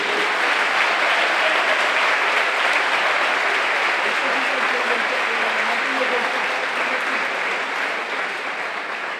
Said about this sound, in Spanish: un forte aplauso para os profesores que van a entregalos